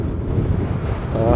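Strong wind buffets the microphone as a two-wheeler rides past open fields in Chennai, a loud, constant low roar with no break.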